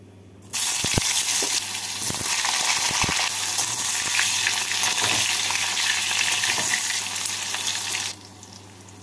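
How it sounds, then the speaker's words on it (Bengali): Eggplant frying in hot oil in a wok, a loud steady sizzle that starts abruptly and runs continuously for about eight seconds before cutting back to quiet. "এবার বেগুনগুলোকে ভেজে তুলে নেব"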